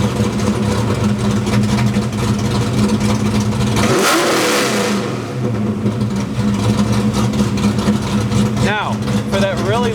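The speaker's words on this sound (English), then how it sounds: "because this has got a super chop cam in it, sounds really good." Ford Fox-body Mustang V8 with a choppy cam, loud and close, rumbling steadily with a brief rev and drop midway; the engine runs continuously throughout.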